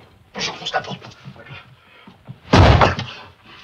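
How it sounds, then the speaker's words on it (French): A man shoves against a door in a comedy film scene, forcing it open with scraping knocks and then one loud, heavy thud near the end, while voices sound in between. "J'enfonce la porte."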